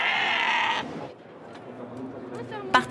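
A sheep at an agricultural show gives one loud, close, drawn-out bleat, followed by quieter crowd murmur and talk in the background.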